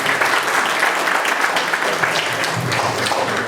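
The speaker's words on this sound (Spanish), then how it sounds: "vamos a recibir un fuerte aplauso a Jean Paul Prado" An audience at a ufology congress in Lima applauds a guest speaker, a steady, dense wash of clapping that holds at an even level throughout, with no talking over it.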